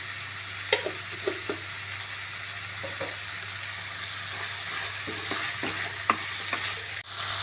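Sliced onions sauté in a pan for a Kerala beef mappas, giving a steady moderate sizzle. Scattered spoon scrapes and clicks mark the stirring, with a sharper knock near the end and no talking.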